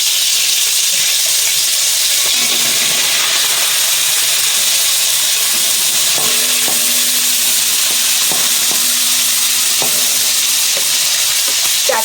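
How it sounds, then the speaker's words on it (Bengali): Koi fish frying in hot oil in a home kitchen, giving a steady, loud, close sizzle throughout, with a few faint clinks and bumps from utensils, and no talking. "তেল গরম হয়ে গেছে, মাছ দিয়ে দিচ্ছি।"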